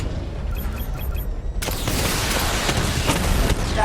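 A Batmobile barrage weapon fires in the Batman Arkham Knight video game, with a sudden loud burst of booming volley fire breaking out after a quieter moment and rolling on continuously.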